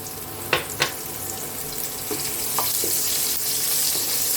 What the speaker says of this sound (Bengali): এবার আমি উচ্ছেগুলো আগে ভেজে নিচ্ছি